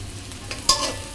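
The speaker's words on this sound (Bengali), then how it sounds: "রসুনটাকে পেঁয়াজের সাথে এখন একটু ভালো করে ভেজে নেব যাতে রসুনের গন্ধটা না থাকে" Garlic paste frying with onions in a pan, a soft continuous sizzle with a couple of brief sharper scrapes or stirs, fairly quiet.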